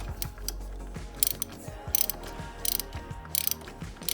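A ratchet tightens the plastic oil filter housing on a 2017 Ford F-150, several close bursts of quick ratcheting clicks separated by brief pauses over a low hum.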